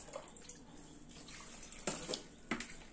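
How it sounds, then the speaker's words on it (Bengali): Vegetables rinsed under a running kitchen tap, a soft steady stream of water with two brief louder splashes as the pieces are moved under the flow, no talking. "এবার সবজিগুলোকে একটু ধুয়ে দেবো।"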